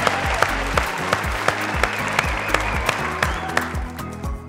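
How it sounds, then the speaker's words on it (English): Studio audience at a quiz show competition applauding, a strong burst of clapping that continues steadily for several seconds over a rhythmic music bed with regular beats, close and loud, fading slightly at the end. "Can we give both of them a big round of applause?"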